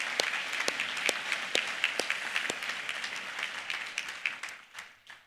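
Audience applause at a college commencement ceremony, a sustained wash of many hands clapping with sharp individual claps, fading out at the end.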